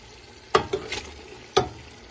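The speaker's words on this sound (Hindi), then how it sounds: "इसमें हम टमाटर डालेंगे" Tomatoes hit hot frying masala for chicken karahi in a pan, making two sharp sizzling bursts about a second apart with a brief scrape of stirring between them. The sizzle is close and crisp against a quiet background.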